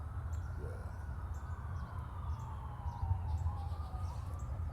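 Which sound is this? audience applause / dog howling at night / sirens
sirens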